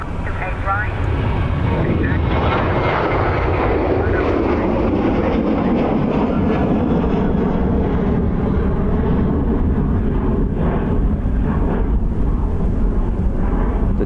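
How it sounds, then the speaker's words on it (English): A Delta Airbus A330 airliner rolls for takeoff at Dublin Airport, a steady loud broadband jet engine roar building and holding throughout, near and continuous. "The Delta A330 is going to go from November 2 by the sounds of things."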